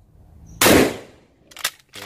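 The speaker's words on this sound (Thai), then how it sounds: "เดี๋ยวพร้อมผู้ยิงพร้อมเริ่มยิงครับ" A Derya Carina CR-201 12-gauge pump shotgun with a five-round capacity and alloy receiver fires one loud, close blast during test shooting, followed by sharp mechanical clacks.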